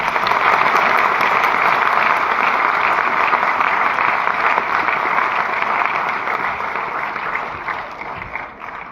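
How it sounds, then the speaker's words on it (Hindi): A packed business-seminar audience gives sustained, loud, dense applause that holds steady before tapering slightly at the end. "उसको एक बार थैंक यू अपनी तालियों में बोल दीजिए पहले"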